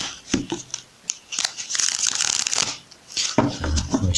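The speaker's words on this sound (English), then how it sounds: "Let me shuffle one more time." Tarot cards shuffled by hand during a reading, a dense run of riffling, slapping and flicking card noises that pauses briefly and then resumes, close and fairly loud with no voice over it.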